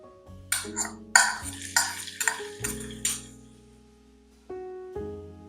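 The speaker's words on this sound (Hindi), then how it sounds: "घी को गर्म करने के बाद इसमें डालेंगे लहसुन" Garlic tipped into hot ghee in a pot for red lentil dal: a burst of crackling sizzles and a few metallic clinks over soft background music, then fading to calm.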